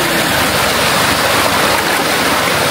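The Sungai Congkak river flows past a family campsite, a steady, loud broadband rush of water with gurgling texture that stays constant throughout, with no voices.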